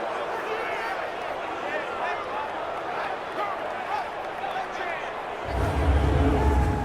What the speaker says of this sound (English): One of the bigger plays in the game thus far, and the crowd getting into it as we come up on a big third down.